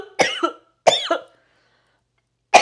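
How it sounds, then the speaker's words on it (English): A gross, wet cough from a person, heard as two close harsh coughing bursts near the mic, a pause, then the start of a third. "It was a gross cough."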